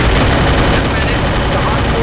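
Gunfire in the Free Fire battle-royale game, a dense, continuous burst of rapid shots filling the whole moment at loud volume, with no clear gaps between rounds.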